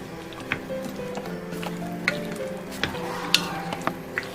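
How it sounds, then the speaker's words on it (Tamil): Whole mushrooms, tomato and tikka masala stirred together in a bowl for a microwave grilled mushroom tikka: soft wet stirring with a few light clicks and taps of a utensil against the dish, close and fairly quiet, no talking. "இது எல்லாத்தையும் நல்லா மிக்ஸ் பண்ணிக்கோங்க"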